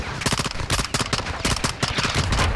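Rapid bursts of automatic gunfire in the Call of Duty: Modern Warfare II campaign, several sharp volleys in quick succession, loud and close, with no talk over them.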